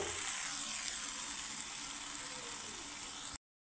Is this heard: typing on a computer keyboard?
no